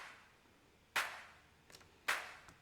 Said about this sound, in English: And added a wood hit.